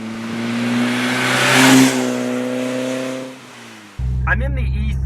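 An E30 BMW M3 engine revs up to a strained peak, then the pitch falls away as the throttle eases, before a lower, rougher idle-like drone returns near the end.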